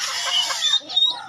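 A live turkey, kept for roasting, gives a few short clucking calls close by, steady for about a second and then breaking into a brief final call, with no talk over it.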